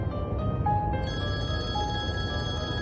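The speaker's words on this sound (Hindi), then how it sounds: "केमाल भाई का कॉल।" A phone ringing with an incoming call in a Hindi-dubbed Turkish drama scene, steady electronic ringtone tones repeating over a low background bed with no speech.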